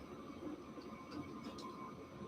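A small model train hums steadily along its track on a model railway layout, a faint continuous whirring rumble with no voices.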